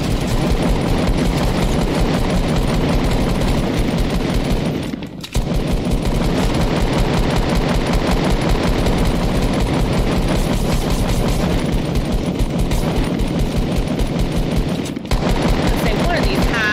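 Sustained rapid automatic gunfire in a Fortnite match, loud and close, rattling almost continuously with two brief pauses, over a busy game background.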